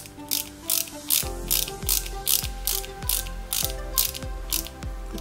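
Screwdriver with a ratcheting action driving flat-head screws into a 1/8 scale Mercedes-Benz 300 SL model kit, a rapid string of sharp repeated clicks in a steady rhythm, close and distinct with no talk.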